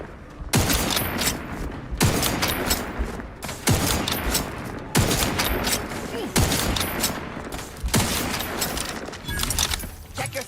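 Gunfire in the video game The Outer Worlds, loud bursts of automatic fire about every one and a half seconds, each shot ringing with a short echo, close and sustained over several rounds.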